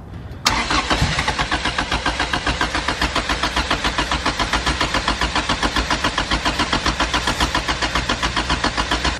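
An engine cranks over continuously with a spark tester plugged into its spark plug, producing loud, rapid, evenly spaced rhythmic pulses after a sudden start.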